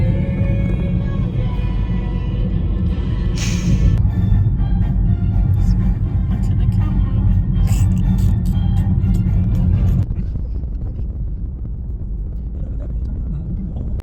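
Steady low road rumble and engine drone inside a moving car on a long drive in North Wales, loud and continuous, shifting to a softer, duller hum near the end, with people talking occasionally.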